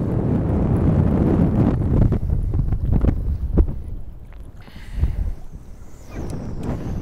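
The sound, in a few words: wind blowing on a lake while bass fishing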